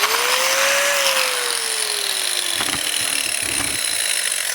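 An angle grinder whines steadily while cutting a hole in ceramic tile, its pitch rising then sagging as it bites, with gritty scraping bursts near the end.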